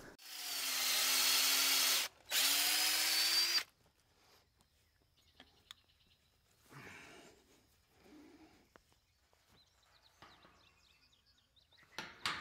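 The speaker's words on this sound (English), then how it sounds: "Just trying to get the height of where I should drill this hinge pin." A power drill bores a hole for a gate hinge pin on a new pasture fence. It runs loud and steady in two bursts over about four seconds with a brief pause, then quieter handling noises follow.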